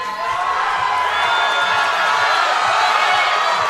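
A large crowd cheers, whoops and applauds at a powerlifting championship for a hometown lifter, a loud, sustained roar of voices and clapping with no letup.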